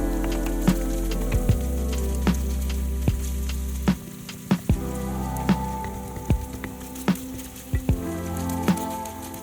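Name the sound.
tomato paste and red pepper frying in oil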